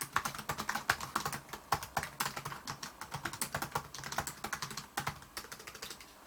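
Fast typing on the keyboard of an LG Gram 13-inch laptop: dense, light clicks in an even flowing rhythm, close and fairly quiet, with no one talking.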